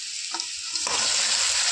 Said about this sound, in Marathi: आता मटण टाकून घेऊया.